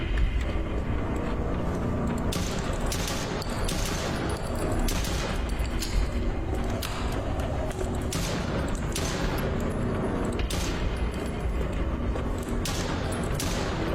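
Gunfire in a horror video game: repeated sharp shots crack out at irregular intervals over a loud, dense background of game ambience and rumble, sounding close and forceful throughout.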